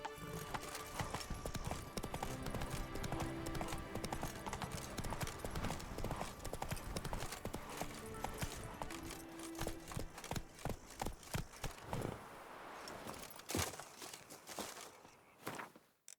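Roach, a horse in a video game, gallops with rapid clip-clop hoofbeats that carry on steadily for most of the stretch, then thin out into scattered thumps before fading.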